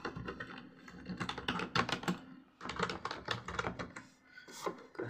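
Rapid typing on a computer keyboard while entering customer details into a spreadsheet, steady clattering keystrokes in two bursts separated by a brief pause, close and alone.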